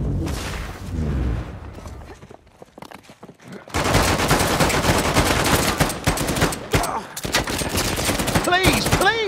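Gunfire in the shooter Uncharted 4: A Thief's End, with loud bursts of shots and booms filling the second half after a quieter opening, as in a dense firefight.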